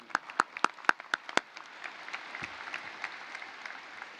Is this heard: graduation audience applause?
yes